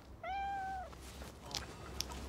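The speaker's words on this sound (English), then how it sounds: "Mrs. Higgly Piggly's cat stuck up this tree." A cat stuck high up in a tree gives one clear, drawn-out meow, fairly faint and distant over steady outdoor background noise, followed by a couple of small knocks.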